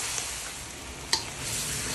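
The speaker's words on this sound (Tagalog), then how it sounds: "Haluin muna natin." Vegetables being stirred in a pot for fish sinigang, a steady sizzling wash with one sharp scrape or clink of the utensil partway through, close and without talking.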